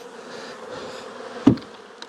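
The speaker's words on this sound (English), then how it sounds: "And there's bees everywhere." Swarm of honeybees buzzing around a hive on a pallet in cool weather, a continuous close drone of many wings with a brief louder knock or bump near the end.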